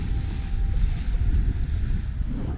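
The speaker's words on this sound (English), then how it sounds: "We're sailing close haul right now, so it's almost straight into the wind." Steady, loud rush of wind and water around a heeled-over sailboat beating close-hauled into strong wind on the Baltic Sea, with continuous buffeting on the microphone throughout and no voices.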